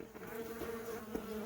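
A steady, close hum of many honey bees buzzing together on a frame in the bottom brood box of a hive, a dense drone with no voices.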